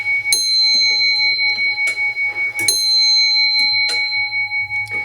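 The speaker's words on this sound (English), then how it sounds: "So whilst it's chiming, whilst it's playing music, if it's a musical clock, it must be left to finish." A mechanical musical clock rings out loud, bright chimes, a few strong strikes with lighter tinkling notes between them, each tone ringing on over a steady ticking mechanism.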